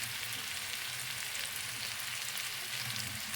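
Tomato gojju with chili powder sizzles steadily in a hot pan, a dense continuous frying hiss with faint stirring underneath and no talking.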